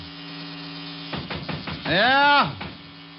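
An electric shaver buzzing in a 1950s radio detective drama, a steady mains-like hum that rises into a brief louder whining burst near the end, alongside a voice.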